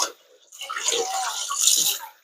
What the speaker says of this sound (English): I have to rinse this. I don't want that extra fat, so I try to get rid of these fats.